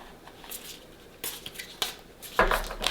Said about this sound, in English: These ones are hard to shuffle.